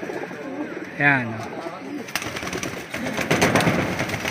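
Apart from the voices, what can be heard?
racing pigeons cooing in a loft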